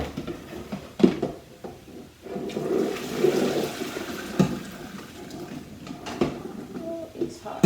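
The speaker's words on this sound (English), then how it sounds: "Okay, now our potato is done. We have to drain them now." Hot water from boiled potatoes gushes and splashes as it drains into a sink, a moderate rushing pour with clanks of the pot and a person talking over it.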